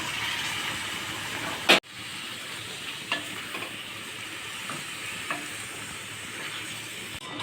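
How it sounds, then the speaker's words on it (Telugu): Half a kilo of marinated chicken frying in a pan for gongura chicken, giving a steady hissing sizzle broken by a sharp clack early on and light stirring scrapes. "ఇప్పుడు మనం చికెన్ అయితే వేసుకుందాము"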